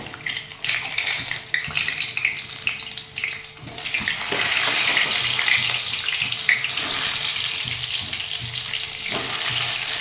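Whole amla, Indian gooseberries, dropped into hot oil for pickle: a quiet sizzle jumps to a loud, steady, hissing fry about midway and holds strongly to the end.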